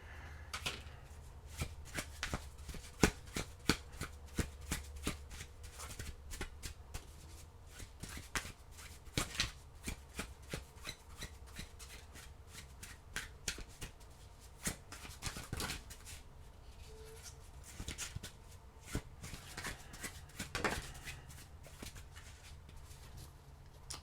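Tarot cards shuffled by hand in a long run of quick, crisp riffling bursts and soft handling clicks, close and fairly quiet with no talking.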